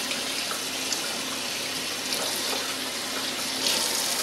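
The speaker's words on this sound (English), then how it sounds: "But first, we rinse it." Tap water runs steadily over brined chicken being rinsed in a kitchen sink, a continuous close hiss and splash with small surges.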